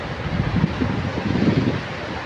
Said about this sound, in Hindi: बहुत तेज़ पानी आया हुआ है सैलाब का